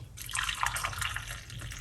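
Liquid pours and splashes into a glass for a couple of seconds, close and fairly loud.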